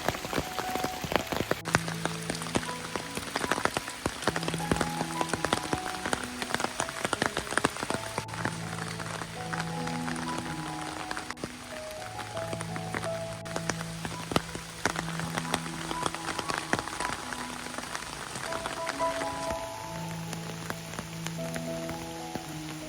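Rain pattering steadily on big umbrellas outdoors beside water at Bathpool, Kidsgrove, during a thunderstorm, a dense close spatter of drops continuing throughout, with tonal music-like notes over it.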